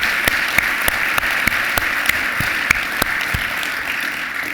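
An audience at the Stanford Global Energy Forum applauds in a steady, dense round of clapping that stays loud and even throughout, with a few sharper individual claps standing out.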